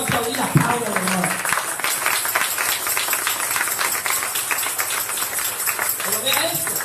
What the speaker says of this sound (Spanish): Entonces, se va a aplaudir a Pablo, hermano.